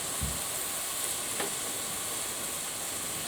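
Rice and vegetables stir-fried in a pan give a soft, steady sizzle with a faint hiss throughout and a brief low knock near the start, fairly quiet and with no talking.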